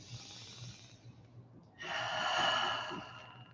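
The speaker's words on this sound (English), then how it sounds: "So take a couple of deep breaths here." Two deep breaths in a gentle yoga session, a softer airy inhale followed by a louder, fuller breath, close and with no talk.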